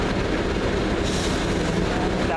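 A Class 31 diesel locomotive in rail freight livery passes on a heritage railway, a loud, continuous rolling roar with rail and wheel noise that holds steady throughout.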